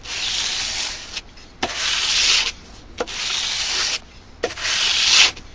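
Fine grit sanding belt working a blade to remove machining marks, a harsh abrasive rasp in four or five strokes of about a second each with brief gaps, close and loud, no talk.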